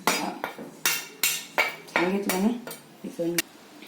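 A spoon scrapes and clinks against a metal bowl in a series of quick, uneven strokes, close up and with no one talking, mixing dry ingredients for cabbage fritters.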